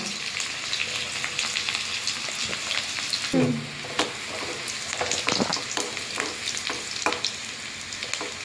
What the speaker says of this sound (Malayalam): നമ്മൾ കുറച്ച് ഉള്ളി കൊടുക്കാം വറ്റൽ മുളകും കൂടെ കുറച്ചിട്ട് കൊടുക്കാം